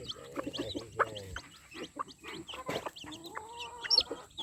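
Chickens and chicks on a farm make scattered clucks and cheeping peeps, a low throaty hen call at the start and thin high chick chirps throughout, close by and moderately loud.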